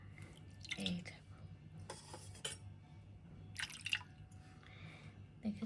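Water drips and trickles during the bathing of small Gopal deity idols, quiet, scattered splashes and faint clinks of metal vessels, close by, with no talking.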